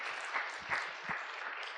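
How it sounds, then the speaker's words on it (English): An audience at a conference parallel session claps for the speakers and volunteers, a dense continuous round of applause heard from within the room. "let's give a round of applause for our speakers and volunteers"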